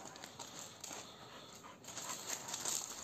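A dog, a Georgian shepherd or an American pit bull terrier, whimpers and pants faintly and steadily at a distance in a quiet setting.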